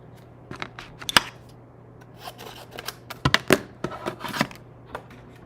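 Scissors snip through a corner of paper for a handmade card bundle, giving a close series of crisp, irregular cuts and rustles, with a couple of sharper snaps amid quiet handling and no voices.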